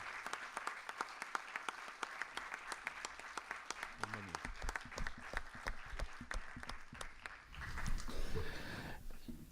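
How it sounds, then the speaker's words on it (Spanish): A seminar audience gives a round of applause, a steady patter of clapping from a mid-sized crowd that thins out and then swells again briefly near the end. "yo le pido un aplauso especial por ese esfuerzo que hizo Nerio."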